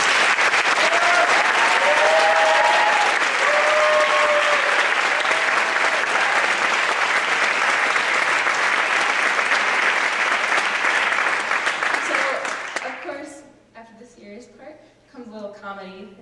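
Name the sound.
audience applause at a high school jazz concert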